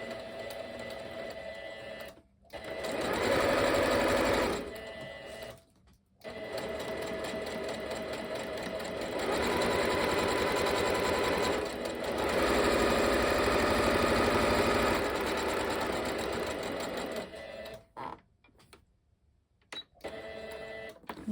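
A sewing machine stitching a scrappy needle pouch runs in long, loud continuous bursts of rapid mechanical whirring, stopping briefly between seams, with short pauses near the start and a quieter stretch at the end.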